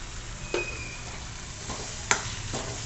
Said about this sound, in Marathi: तो पण छान मऊ होईपर्यंत परतवून घ्यायचा